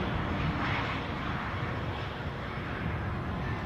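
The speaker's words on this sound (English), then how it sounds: "you're looking at a rather divine Mitsubishi 850 Challenger" Steady, broad engine roar of a Mitsubishi (Bombardier) Challenger 850 CRJ2 regional jet at Aberdeen airport, fairly close and constant in level throughout, with no talk.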